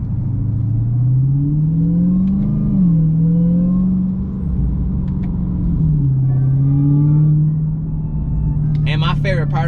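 A 2020 Toyota Camry with an aftermarket Legmaker intake and supercharger revving loudly and steadily, engine tone rising and falling with a whine on top, while a voice talks over it briefly near the end.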